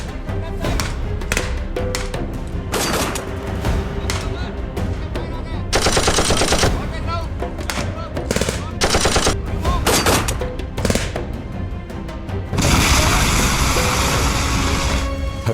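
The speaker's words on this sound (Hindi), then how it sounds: "एक दुश्मन की पोस्ट से हमारी तरफ फायर आया।" Gunfire from an enemy post at night, with bursts of machine-gun fire and sharp repeated shots alongside dull thuds, loud and close, with a long sustained burst near the end.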